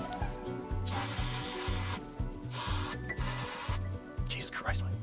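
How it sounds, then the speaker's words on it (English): Steady, close scrubbing and rubbing on the corroded electrics of a 1/10 scale RC rock crawler, in repeated harsh strokes with short pauses, alongside low rhythmic mechanical ticking. "I'm going to now start gently rubbing and scrubbing"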